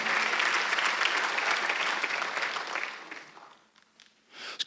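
A church congregation at a Sunday worship service applauds in a dense, steady burst of clapping that fades out after a few seconds, leaving near quiet with a few final scattered claps.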